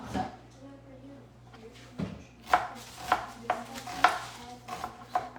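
A knife chops a whole onion on a cutting board in a home kitchen, making sharp, close knocks that speed into a steady rhythm after a few slower cuts, with quiet background noise.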